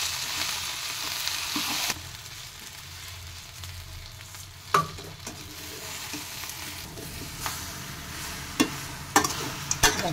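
A spoon stirs sugar into a pan of sweet-sour-spicy jujube pickle, a soft sizzling hiss with scraping strokes and a few sharper clinks against the pan, close and alone.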